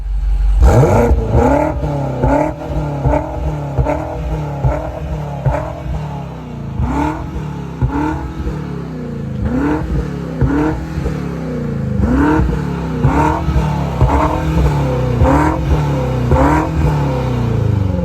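A BMW X6 M SUV's 625hp engine revs repeatedly, each blip rising and falling in quick succession, loud and close, with no talking.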